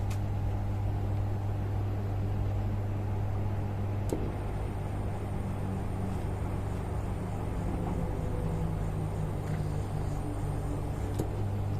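The blower motor of a Frymaster commercial fryer spins with a steady, close mechanical hum. The constant drone runs unbroken throughout, with a couple of faint clicks near the middle and the end.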